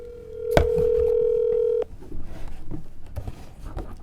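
A telephone line gives a single sharp DTMF beep followed by a steady dial tone, held for over a second before stopping, with faint room noise and shuffling after; the call is being placed to a lawyer.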